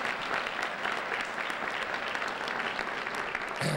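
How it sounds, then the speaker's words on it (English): Steady, dense applause from an audience at a scholarship jazz brunch, sustained throughout without pause and fairly loud, with a brief shift in tone right at the end. "let's give them all a big round of applause"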